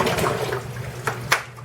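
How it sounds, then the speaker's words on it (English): Vinegar poured into a bucket of water for tie-dye rinsing, a close liquid splash and gurgle with a couple of sharper sloshes near the end. "pour a heavy hand splash full and mix it in"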